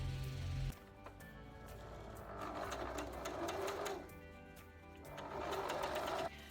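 A sewing machine stitches trim around the outline of a lace design, running in steady whirring bursts with brief pauses and speed changes, close and alone.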